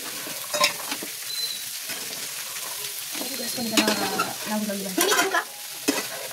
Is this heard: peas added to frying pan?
yes